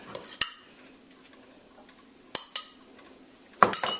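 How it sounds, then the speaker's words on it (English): Metal spoon clinking against a dish while scooping dry rub onto pork ribs for oven-baked BBQ: a few sharp, separate clinks and scrapes in a quiet kitchen, with a short burst of clattering at the end. "Just gonna spoon on some of that lovely dry rub."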